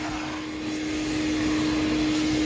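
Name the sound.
vacuum cleaner cleaning a Honda car interior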